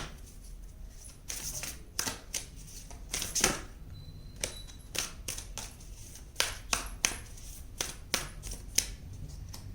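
Tarot cards are shuffled and drawn up close, giving irregular sharp slaps, flicks and snaps of card stock in quick clusters with short pauses between, in an otherwise quiet room.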